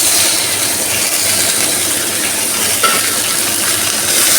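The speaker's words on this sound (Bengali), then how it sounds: "এবার আমি এর মধ্যে মাটনটা দিয়ে দেবো।" Mutton added to fried onions sizzles loudly in a pan: a dense, continuous hiss with scraping stir sounds throughout, close and unbroken.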